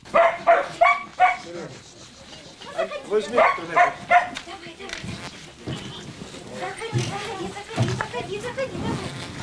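Dogs and puppies yelp, whimper and bark in a cluster of sharp, close calls as a family and volunteers evacuate animals from Kramatorsk, with people speaking over the noise.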